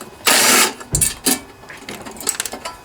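A 1/4 inch socket wrench loosens bolts on the shroud of a Briggs & Stratton 7.25 163cc engine, giving a burst of ratcheting clicks followed by several sharp metallic clanks and rattles up close.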